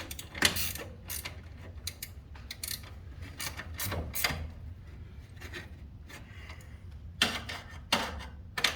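A ratchet tightening a garage door torsion spring during a spring conversion sends out bursts of close clicking and grinding strokes, several quick pulls with short pauses between, loudest near the start and end, with no one talking.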